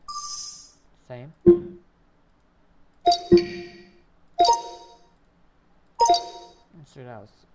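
Short Windows 11 notification chimes ring out one after another, each a bright, clean ding with a soft decay, separated by silence and occasional brief vocal sounds.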